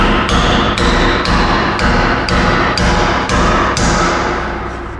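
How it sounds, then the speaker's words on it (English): Loud, close hammer blows driving a metal wedge and a screwdriver into a box, about nine sharp ringing strikes in a steady rhythm, each decaying into the next, with no talking. "So I'm going to use a screwdriver with a wedge."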